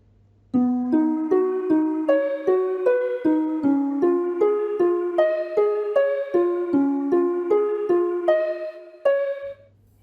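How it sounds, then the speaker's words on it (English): A video game's space theme: a plucky, bell-like electronic melody plays alone in a steady rhythm, each note starting crisply and fading quickly, with a floating, spacey feel. "The second one is the space theme."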